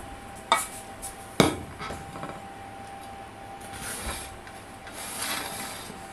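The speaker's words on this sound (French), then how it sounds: "Alors je vais vous en découper un petit morceau" A knife cuts into a crustless green asparagus quiche in a home kitchen, with two sharp clinks of metal on the dish followed by soft scraping and tapping.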